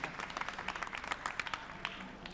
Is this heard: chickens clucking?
no